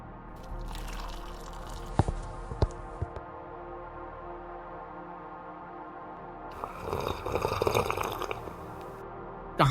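Hot tea is poured into a cup at a roadside tea stall, a short liquid splashing burst following a few faint drips and clinks over a low steady hum.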